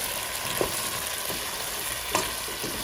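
Aloo gobi sabji, potatoes and cauliflower, fries in a pan with a dense, steady sizzle while a spoon stirs now and then, leaving a couple of distinct scraping knocks.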